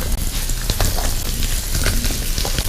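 Zucchini stir frying in a hot pan, a steady close sizzle with crackling pops and occasional stirring scrapes, no voices.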